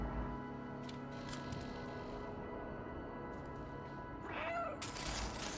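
A single cat meow from the video game Stray rises and falls near the end, over a steady electronic hum and background game ambience.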